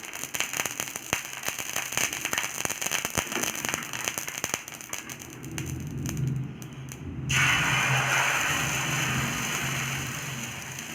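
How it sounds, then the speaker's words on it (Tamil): Egg adai batter sizzles in a light drizzle of oil on a dosa pan, a steady close crackle and hiss that grows louder and fuller partway through, with no voices. "தோசைகள் வச்சுட்டு லைட்டாக எண்ணெய் ஊற்றிக்கோங்க."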